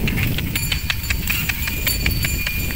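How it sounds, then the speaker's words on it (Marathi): Bullocks walking along with hooves clopping in a steady, repeated rhythm of sharp knocks, fairly close, over a constant low rumble of background noise. "हे बघा आपले बैल चालायले"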